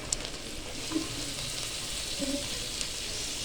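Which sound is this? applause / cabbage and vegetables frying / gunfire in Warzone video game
cabbage and vegetables frying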